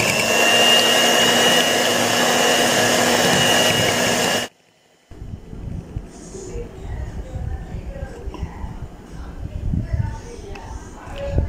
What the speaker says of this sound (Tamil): இப்போ இதை வந்து நல்லா நம்ம பீட் பண்ணி எடுத்துப்போம்.